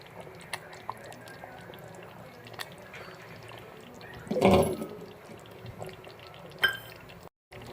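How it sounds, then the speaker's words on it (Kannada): Water splashes briefly into a mixer jar in one short pour midway while making chicken curry, surrounded by quiet kitchen noises and faint clicks. "ಜಾಸ್ತಿ ನೀರು ಸೇರಿಸ್ತಿಲ್ಲ ನಾನು ಮಿಕ್ಸಿ ಜಾರಿಗೆ ನೀರು ಹಾಕಿ"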